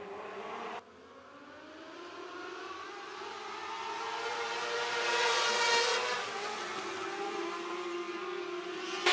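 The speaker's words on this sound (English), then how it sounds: "Listen to those engines wind up as they come off at the back straightaway." Outlaw Mini-Mod race car engines at Worthington Speedway winding up off the back straightaway, a rising and falling wail of several engines swelling to a peak then easing, heard from trackside at moderate distance.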